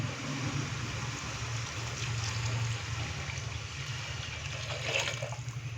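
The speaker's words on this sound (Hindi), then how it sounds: "अभी मैं इसके अंदर पानी डालूँगा।" Water pours steadily into a cooking pot of rice for chicken matar keema pulao, a continuous splashing trickle lasting several seconds, close and fairly quiet with a low hum underneath.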